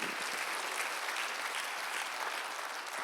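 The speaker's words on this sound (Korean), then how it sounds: "박수를 한번 드리세요" A church congregation at a Sunday service claps together in a steady, dense burst of applause that holds at an even level throughout, with no voices standing out.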